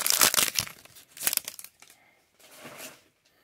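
A 2018 Panini Donruss NASCAR blaster-box foil pack tears and crinkles open up close, with loud crackling bursts, a pause, then softer rustling of the wrapper.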